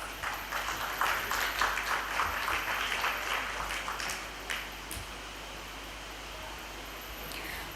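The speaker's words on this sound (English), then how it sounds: "please give a huge round of applause for our amazing guests" An audience at the Miss World Bangladesh 2026 launch event claps for its guests, a burst of scattered applause that swells in the first few seconds, then fades to a quiet room murmur.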